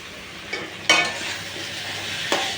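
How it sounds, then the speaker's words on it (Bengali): A freshly mixed spice paste sautéed in a pan while cooking a meat curry, a soft steady sizzle broken by a few sharp clinks and scrapes of a spoon stirring against the pan, close and with no talking. "এখান থেকে আমি যেহেতু সদ্য মশলাটা মেশালাম সেহেতু একটু ভালো করে কষিয়ে নিই"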